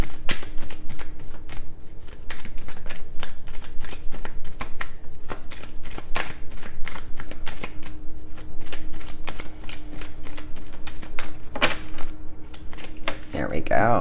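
Tarot cards shuffled during a reading, a steady stream of crisp riffling flicks and soft slaps running throughout, close and fairly loud, with a faint low hum underneath and a brief clatter near the end.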